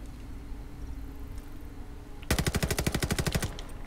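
Rapid burst of automatic gunfire in a Call of Duty Vanguard battle aimed at a sniper hidden in treetops, loud close shots in quick succession after a quiet ambient lead-in.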